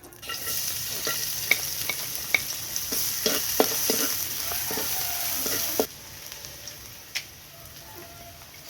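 Garlic fries in oil in a pan over a charcoal fire in a backyard, a bright steady sizzle broken by sharp spatula scrapes and clicks, close up; the sizzle drops sharply about two-thirds through.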